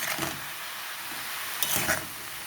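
Onion is stirred into potatoes and poppy seed in a cooking pan, with a soft steady sizzle under two brief scraping strokes of the spoon, close and fairly quiet.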